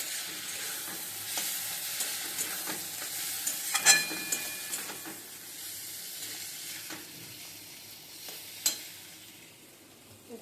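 Chow mein sizzles steadily in a hot pan while it is stirred. Soft scrapes and clinks sound now and then over the continuous close frying hiss, and no one talks.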